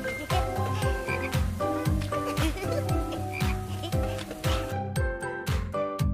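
Cartoon frog croaking sounds repeat in a steady pulsing rhythm, mixed loud with backing music during an animated quiz show.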